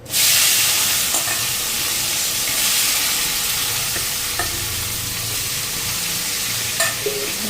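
Eggplant pieces frying in hot oil in a pan, giving a loud steady sizzle throughout with occasional stirring clicks, no voices.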